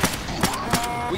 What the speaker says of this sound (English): We got a charger!